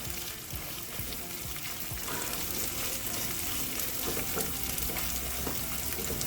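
Food frying in a pan during a Haitian Good Friday breakfast cook, with a steady, dense sizzle under occasional stirring and scraping. It sounds close and fairly loud, with no talking.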